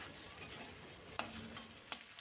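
Ginger and green chilli stir-fried in a pan for a vegetarian bitter gourd dish: a faint steady sizzle with a few soft spatula scrapes, no voices.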